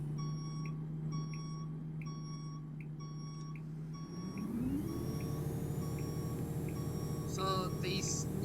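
In the bus simulator OMSI 2, a Volvo Olympian bus engine hums low under steady, evenly spaced reversing beeps, then revs up with a rising whine as the bus pulls away, with a brief chirp near the end.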